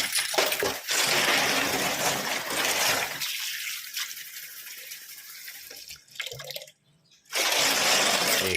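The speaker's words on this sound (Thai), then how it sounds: "เปิดน้ำล้างไปเรื่อยๆนะครับ ล้างไปนะครับ" Coins from a piggy bank rinsed under a running tap, a loud rushing stream of water with rattling and clinking of coins, close, dropping briefly near the end before the flow resumes.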